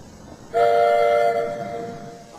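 Steam tram engine on its line gives a sudden loud, clear horn-like whistle blast that holds for about a second, then fades gradually under a low rumble.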